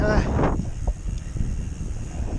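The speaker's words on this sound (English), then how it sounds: "it is quite windy today actually" Steady broadband wind rumble buffets the microphone outdoors during a bike ride, with a brief gust early on and a low roar that never lets up.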